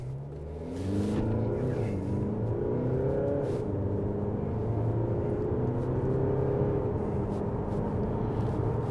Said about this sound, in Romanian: cum se descurcă mașina dacă o trecem în modul sport și plecăm un pic mai tare de pe loc